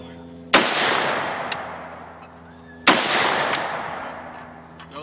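Two loud, sharp AR-15 rifle shots about two seconds apart, each cracking close by and ringing into a long decaying echo, with a steady low hum underneath.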